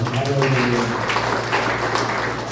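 A church congregation applauds during a Tagalog sermon, a steady wash of clapping from a full room, with a low droning tone under the first second.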